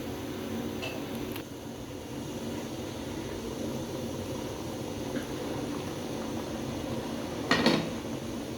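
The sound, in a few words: potatoes boiling in a covered pot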